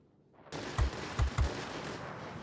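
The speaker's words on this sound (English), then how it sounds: "The ME-262 has a few futile shots at me." Several short gunfire bursts from a Messerschmitt ME-262 jet fighter in the flight combat game World of Warplanes, three distinct low thumping shots over a steady engine drone.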